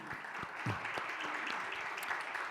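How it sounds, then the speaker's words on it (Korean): A church congregation applauds to welcome new members during a Korean Sunday worship service registration ceremony, a steady wash of clapping held at moderate volume for the whole moment with faint voices mixed in. "박수로 한번 환영할까요?"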